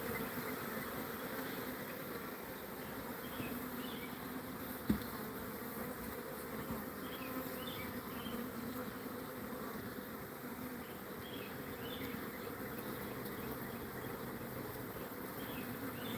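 Honeybees buzzing around a brood frame pulled from a hive after a swarm, a soft, steady hum of wings close by with one brief knock partway through, and no voices.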